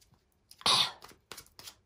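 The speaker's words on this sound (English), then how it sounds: "I don't know why I keep coughing." A single harsh cough, close and fairly loud, followed by a few softer throat-clearing bursts in an otherwise quiet room.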